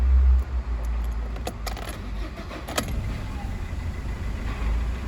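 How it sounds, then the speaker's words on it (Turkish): A car key turned to switch on the ignition, with a close jangle of keys on the ring over a steady low hum. "Bak kontağı açtığımda"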